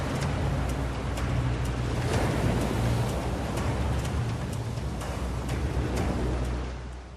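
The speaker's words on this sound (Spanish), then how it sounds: "Un muro de agua atraviesa Miami como una bola de demolición." A tsunami wall of water crashes through Miami after an asteroid strike, heard as a continuous dense roar of rushing water with steady low rumble and scattered sharp crackles, loud and unbroken for about seven seconds.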